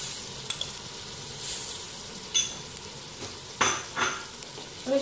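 Yogurt is stirred into a frying-pan mixture of chana dal and bitter gourd, a soft sizzle underneath with a few separate spoon scrapes and clinks against the pan, close and fairly quiet.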